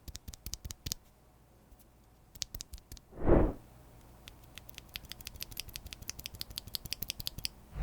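Lubed tactile mechanical keyboard switches pressed in quick bursts of crisp, close clicks and clacks, with a brief rushing noise in the middle before steadier rapid typing resumes.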